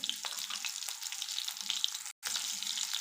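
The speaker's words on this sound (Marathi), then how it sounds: "मिरच्या छान चटचडल्या आहेत" Chopped green chillies crackle and sizzle in hot oil for a fasting-style potato bhaji, a steady close-up frying hiss that breaks off for a split second near the end, with no talking.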